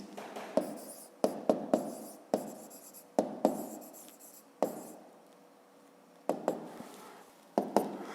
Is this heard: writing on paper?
yes